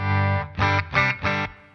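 A guitar played through a PastFx Echo 600 effect pedal with heavy gain distortion rings out as four thick, saturated chord stabs in a steady rhythm, each sustained briefly before cutting off.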